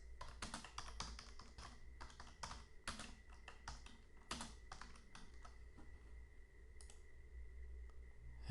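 Computer mouse clicks and keyboard taps on a desk while working in mapping software, a quick irregular series of sharp, close clicks over a low steady hum, with a few pauses, no talking.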